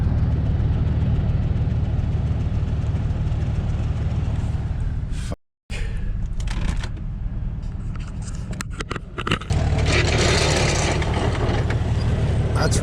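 A Grumman vehicle idles beside a trailer, its steady low engine rumble running throughout with a brief cutout midway and some mechanical clatter and rattling toward the end.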